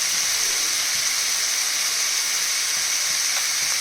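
Vegetables and beans sautéing in a pan for Lung Fung soup, a steady, dense hiss of frying that stays even and loud throughout with no voices.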